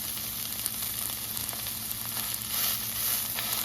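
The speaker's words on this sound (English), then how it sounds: "Patty out your sausage, and then we're going to cook our sausage for our grilled cheese." A sausage patty frying in a pan for a breakfast grilled cheese sandwich, giving a loud, continuous crackling sizzle that swells slightly toward the end, with no one speaking.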